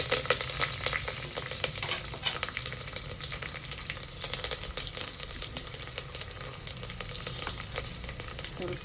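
Mustard seeds, garlic, curry leaves and chillies crackle and sizzle in hot oil for a tempering, a dense continuous spitting fry heard up close with faint stirring throughout.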